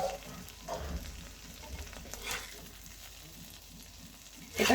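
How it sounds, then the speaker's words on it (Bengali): Garlic and tomato frying in a pan, a quiet continuous sizzle with occasional stirring scrapes and a louder scrape at the end, close by with no talking. "এটা একদম ভাজা ভাজা করে নিয়েছি রসুন আর টমেটোটা।"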